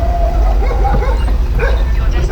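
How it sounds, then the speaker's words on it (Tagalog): At night on a dim roadside, a dog barks and yips several times at close range, with someone talking over it and low traffic rumble underneath. "Ayun na yung aso."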